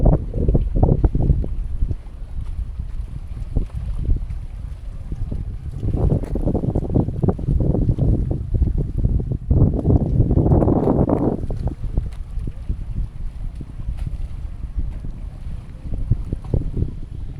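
Steady gusting sea wind on a seaside baywalk in Guimbal, Iloilo, Philippines buffets the microphone in a continuous low roar, rising and falling in strength with no voices present.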